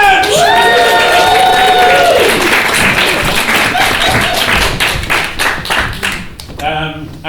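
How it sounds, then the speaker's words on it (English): A theatre crowd at an improv comedy show bursts into loud applause with whoops and cheers. It thins into scattered claps near the end, where a voice begins to speak. "Everybody, give a big round of applause for your team tonight,"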